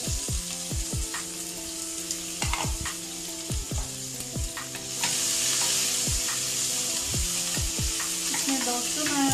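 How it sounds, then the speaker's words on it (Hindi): Onions fry in a pan with a pinch of asafoetida for lauki and chana dal sabji, a loud continuous sizzle with repeated spoon-stirring clinks and scrapes, close up and with no talking. "और प्याज को अच्छे से फ्राई करेंगे।"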